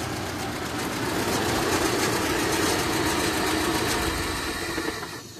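A GAZelle van engine idles after LPG carburetor tuning, a steady close rumble that rises slightly and then eases off toward the end.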